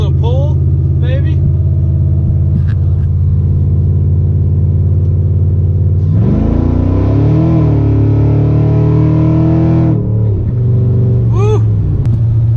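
A Chevrolet Silverado SS pickup idles with a deep, steady rumble in snow, then the engine revs up hard for a few seconds in a loud, rising pull before settling back to a smooth idle.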